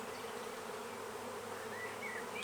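Honey bees buzz steadily and close throughout a hive inspection of a double brood box, a dense unbroken drone with a few higher individual wing whines passing near.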